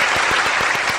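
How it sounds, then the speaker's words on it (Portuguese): Steady applause from an audience at a televised political event in Amazonas, a brief dense burst of clapping heard close up with no voices over it. "Ricardinho, palmas para a nossa política amazonense"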